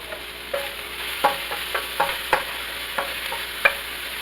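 Green and white onions tossed in a hot frying pan for pasta: a steady sizzle broken by about a dozen sharp stirring scrapes and clacks, close and fairly loud, no talking.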